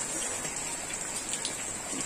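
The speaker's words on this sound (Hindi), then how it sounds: "पूरा मेरे घर में भी पानी बहुत चू रहा है।" Monsoon rain leaking into a house makes a steady, dense hiss of falling water and scattered drips, a continuous wash of sound at moderate distance with no voices.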